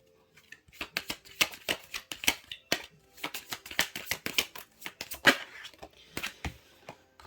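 Cards from a Little Reminders Love and Relationships oracle deck are shuffled and drawn, giving a series of sharp, crisp riffles and snaps in irregular bursts, close and fairly quiet, with no talk.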